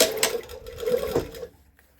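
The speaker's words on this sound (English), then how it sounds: "I'm just going to sew it nice and slowly at 1/4 of an inch." A sewing machine stitches a placket seam at a slow pace, a soft, quiet whirring run lasting about a second and a half before stopping.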